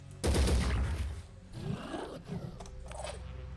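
Gunfire in the tactical game Phoenix Point: a loud burst of rapid shots up close at the start, followed by scraping, mechanical clatter and a few quieter shots.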